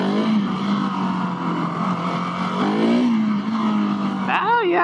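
A Husqvarna 701 Supermoto single-cylinder motorcycle accelerates hard in first gear, its engine note climbing steadily as it pulls. Wind roar rushes underneath, and the revs jump in a quick rising sweep near the end.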